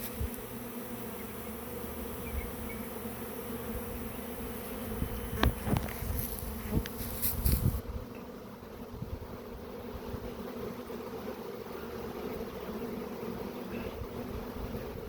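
A honey bee swarm buzzes in a steady, dense drone close by, with a few brief louder knocks and rustles in the middle before the hum settles again; no one speaks.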